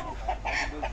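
A fighting cock at a village cockfight gives a brief nearby cluck of a few short calls over faint background murmur.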